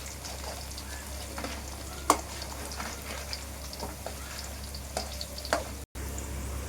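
Gobi manchurian frying in hot oil, a soft steady sizzle with scattered pops and occasional sharp clinks, fairly quiet and without any voices.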